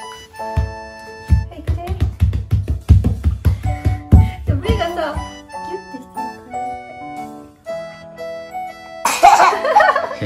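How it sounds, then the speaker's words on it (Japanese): A 4-year-old child nearly sneezes while getting eye drops, with short breathy catches and sniffs near the microphone amid an adult's voice and the child's whimpers, ending in a sharp, noisy burst. "くしゃみしかけて。"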